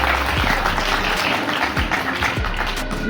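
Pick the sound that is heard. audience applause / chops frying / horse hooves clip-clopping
audience applause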